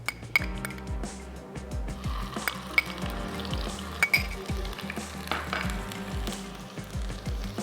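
Garlic and ginger paste fries over lowered heat in a pan for a Hyderabadi chawal ki kadhi, a steady sizzle broken by repeated clinks and scrapes of a utensil against the pan, close and moderately loud.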